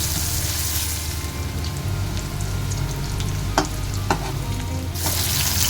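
Ivy gourd sautés in hot oil for a Kerala-style vegetable curry, giving a loud, continuous close-up sizzle with a couple of sharp stirring clicks partway through.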